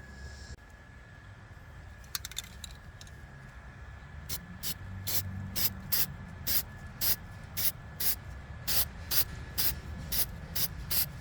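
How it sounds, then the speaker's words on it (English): Spray paint hisses onto a welded boat trailer repair in a series of about a dozen short, evenly spaced bursts that grow steadier over a low background hum. "So I'm gonna paint this"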